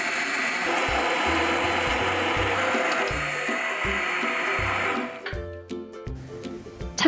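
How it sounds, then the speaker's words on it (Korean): A hand blender purees cooked sweet pumpkin in a pot, giving a continuous whirring grind with pulsing low thumps for about five seconds, then cutting off to a few light clinks and knocks. "불을 끄고 핸드 블렌더로 곱게 갈아주세요."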